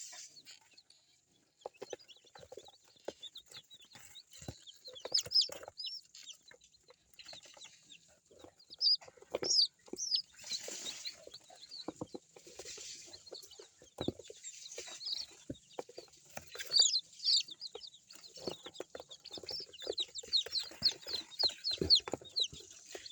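Elba day-old chicks being placed into a simple brooding cage peep and cheep continuously in high, busy chirps, with occasional soft knocks and handling noises.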